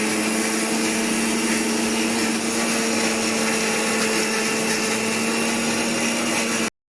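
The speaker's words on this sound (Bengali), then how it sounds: "আর তার মধ্যে একটু জল দিয়ে এটা আমি বেটে নেব।" A blender grinds ginger and leaves with a little water into a spice paste for a rohu fish masala curry, a loud steady motor whir running unbroken for about seven seconds, then stopping abruptly.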